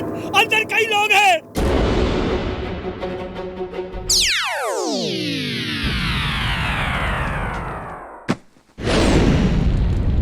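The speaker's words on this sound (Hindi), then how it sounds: "अरे पटाखों की फैक्ट्री में आग लग गई।" Firecrackers burst in a burning firecracker factory in a cartoon, with dense sharp crackling, a long descending whistling sweep and heavy booms. A brief gap comes near the end before loud blasts resume, with voices shouting over the din.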